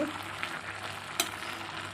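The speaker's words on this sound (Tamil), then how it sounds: "கொஞ்சம் கிளறி விட்டுருவோம்" Vegetables for curd avial sizzle and fry in a pan as they are stirred, a steady close crackle with one brief scrape of the spoon midway.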